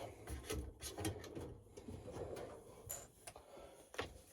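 Wooden drawers on a scale modeller's workbench sliding and knocking, a series of short scrapes and clunks at close range, fairly quiet with no talking.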